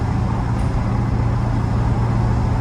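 A 7.3 Powerstroke diesel in a six-speed manual Ford F-250 held at half throttle, a loud steady low engine drone heard from inside the cab with road noise mixed in.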